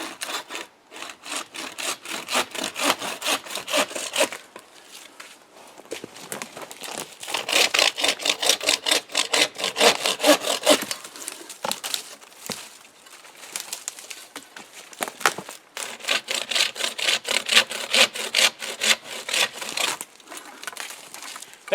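Cheap dollar-store bucksaw with nearly unset teeth cutting tree limbs outdoors, giving rhythmic rasping strokes in several bursts with short pauses, close and steady, while birds coo faintly in the background.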